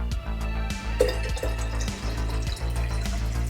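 Four cups of water pour into a horchata mixture of evaporated milk, sweetened condensed milk, vanilla and milk, a close, splashing, gurgling stream with a low repeating rhythm underneath.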